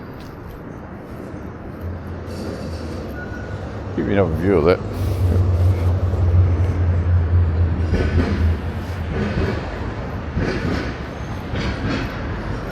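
A Melbourne tram rumbles past at midnight with a low, steady rolling drone and a brief squealing whine, while someone talks over it.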